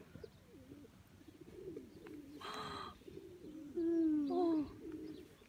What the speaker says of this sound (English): the pigeon is here